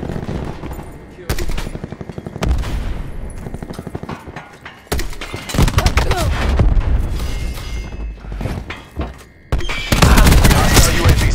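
Artillery strike in a shooter video game: a dense barrage of loud booms and rapid gunfire bursts, with explosions and crackling blasts piling up close and harsh, under intermittent game voice callouts.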